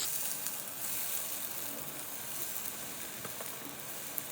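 Grated plantain with ginger, curry leaves and chilli flakes sizzles in a pan, a continuous soft crackling hiss of frying, close and even throughout, with one small tap near the end.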